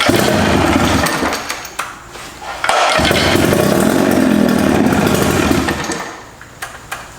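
A Johnson 25hp two-stroke outboard motor starts and revs, a loud, raspy buzzing engine rising and dipping with throttle bursts, dropping briefly before roaring again, then settling toward idle at the end.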